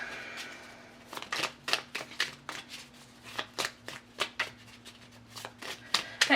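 Tarot-style reading cards are shuffled close by in a steady series of soft riffling slaps and flicks, with a faint low hum underneath.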